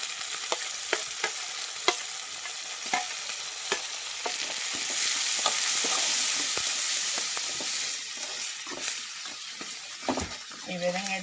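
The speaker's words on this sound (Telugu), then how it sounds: "ఈ విధంగా అయితే బాగా ఫ్రై చేసుకోవాలి టమాటాలు" Tomatoes frying in a pan in a home kitchen, a steady sizzle under repeated scraping stirs of a spoon, the hiss swelling in the middle, with a few soft noises near the end.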